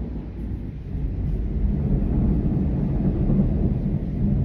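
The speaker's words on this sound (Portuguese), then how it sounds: "tá dando uma trovoada agora de noite" Thunder from a night storm rolls in a continuous deep rumble, heavy and sustained throughout with a slight swell toward the middle, heard from indoors with no talking.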